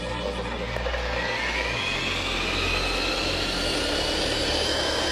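A heavy 40-pound wheel spun up to 2,500 revs a minute makes a loud, continuous whirring drone whose hum rises in pitch as it speeds up, heard alone without talking.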